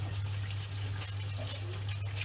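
Water runs steadily from a tap for washing up dishes with a sponge and washing-up liquid, a constant close gush with a low hum beneath it.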